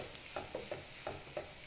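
Ivy gourd curry being stirred with curry powder in a pan: a soft frying sizzle under a series of five or six spaced scraping strokes from a spoon against the pan, fairly quiet, no voices.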